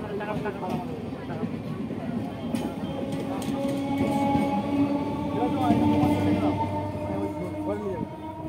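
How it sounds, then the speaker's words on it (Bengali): A passenger train pulls out of a station bound for Bankura, rumbling and whining steadily and growing louder midway, while nearby voices talk over it. "তো ট্রেন ছেড়ে দিল"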